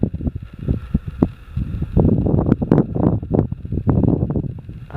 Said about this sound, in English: it's windier